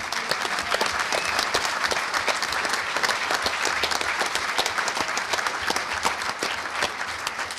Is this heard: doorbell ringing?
no